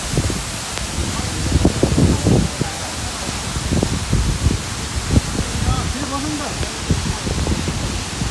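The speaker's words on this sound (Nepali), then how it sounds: "पानी आयो, पानी पर्यो।" Rain falls outdoors in Chitwan as a constant, even hiss of patter across the whole stretch, with voices talking faintly beneath it.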